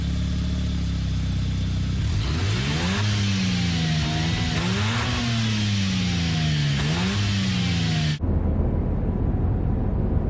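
A BMW M3 and a Mazda RX-7 accelerate on a track, an engine revving up through several rising gear pulls before cutting off abruptly, loud and close.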